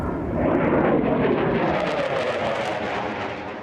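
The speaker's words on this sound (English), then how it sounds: "A Ukrainian jet roars overhead." A Ukrainian military jet roars overhead, a broad, loud engine rumble that swells within a second and slowly fades as it passes, with no voices.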